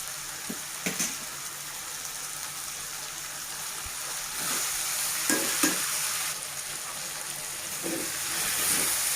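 Green chilli paste frying in a pan for a bottle gourd (sorakaya) curry, a soft continuous sizzle with occasional spoon scrapes and stirring clatters, close and fairly quiet.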